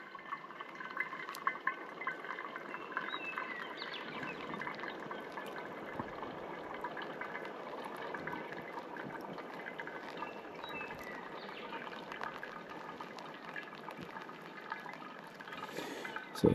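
Campfire-boiled water pours through a filter into a container at an outdoor bushcraft camp, making a steady, continuous trickle and splash that runs without a break.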